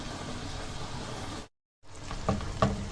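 Chopped onions sizzle steadily as they soften in a frying pan, a close, dense hiss with a few louder spits, broken by a brief full silence partway through before the frying resumes.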